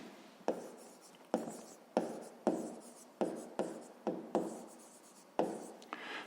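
A pen writing down an answer on paper, a steady series of about ten scratchy strokes, each starting with a sharp attack and fading, close and fairly quiet with no talking.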